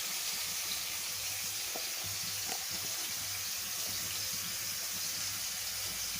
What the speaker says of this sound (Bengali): নাড়ার পরে আমরা দুইটাই এই কড়াইতেও পানি দিলাম